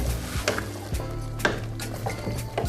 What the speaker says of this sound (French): je remue bien, je mélange bien pour que le tout puisse se s'imprégner du goût de la sauce arachide